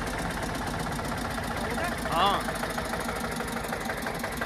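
Mahindra 575 and Eicher 242 tractor engines run steadily with a rhythmic diesel throb and knock, loud and close, while a person briefly speaks over them.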